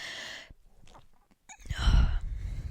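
A single close, sharp sneeze bursts out after a few quick breaths and a soft vocal sound.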